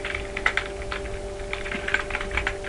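Steady, close keyboard typing in quick irregular clusters of keystrokes, with a faint constant hum underneath and no talking.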